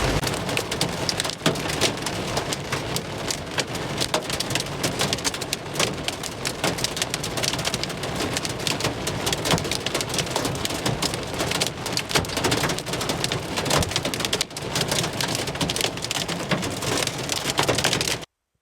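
Heavy rain pounds a tent during a thunderstorm in Badlands National Park, a dense continuous roar with low rumbling thunder underneath that lasts nearly twenty seconds before it cuts off.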